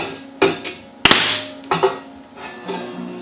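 An insulation pin being welded to a metal building surface with a pin welding gun, heard as a few sharp close metallic clicks and bangs spaced irregularly, one louder crack near the middle.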